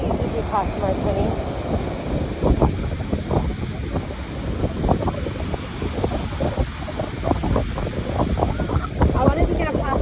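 Strong wind buffets the microphone on a beach beside breaking waves, making a continuous gusty roar with surf underneath, while people talk over it.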